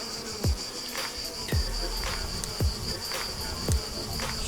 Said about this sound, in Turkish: Şimdi bir kovanda ne kadar arı var?